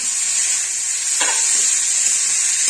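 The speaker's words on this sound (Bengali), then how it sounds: "এবার আমি মোচাটা ঢেলে দিচ্ছি।" Banana flower (mocha) hits hot oil in a pan and sizzles loudly and steadily, a bright continuous frying hiss with a brief burst as it lands, and no voices.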